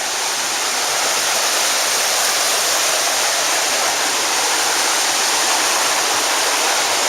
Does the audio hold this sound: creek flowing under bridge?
yes